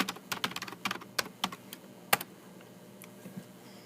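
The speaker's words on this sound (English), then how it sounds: "type that straight into your address bar" Quick, close clicking of fingers on a computer keyboard, a dense run of keystrokes that thins into a few scattered taps toward the end, heard alone in a quiet room.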